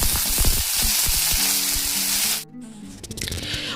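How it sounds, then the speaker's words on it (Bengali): Bitter gourd slices, seeded and cut into rounds, sizzle steadily in hot oil with a few stirring clatters, the loud frying cutting out abruptly near the end before resuming more faintly. "উচ্ছেগুলোকে এইভাবে ভেজে নেবেন"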